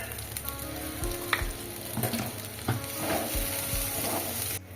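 A green-pea kachori filling sizzles in a pan as homemade roasted cumin and dried-chilli masala is stirred in, giving soft, continuous frying with several scraping spoon strokes and no talking.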